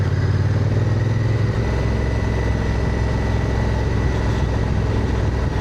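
A motorcycle rides along a road on a hot day, its engine a steady loud drone with a deeper rumble that shifts pitch early on, continuous and close.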